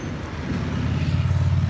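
Road traffic in Tijuana near the US border, a steady low rumble of passing cars and engines that swells slightly toward the end, with no voices.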